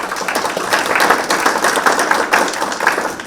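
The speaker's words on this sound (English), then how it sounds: "Let's give her a round of applause" A small community forum audience gives a presenter a round of applause: loud, fairly close clapping with individual claps audible, swelling and slightly uneven over a few seconds.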